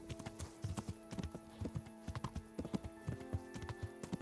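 Horse hooves clip-clop in a steady, even walking rhythm in the video game Kingdom Come: Deliverance, moderately close and clear, with no talking over them.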